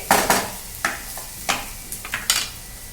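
Sandge, dried lentil dumplings, stirred while frying with tomato and onion in a pan: a soft sizzle under a series of sharp spoon scrapes and clinks against the pan, irregular and close.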